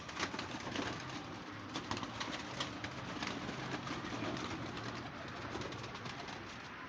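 Pigeons kept on a rooftop coo steadily in soft, repeated low calls, close and continuous, with a faint outdoor hum and no talk.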